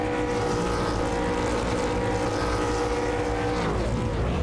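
V8 Supercars in a racing video game rev their engines together at a race start, a loud sustained droning snarl of many engines with rising pitch toward the end, no talk over it.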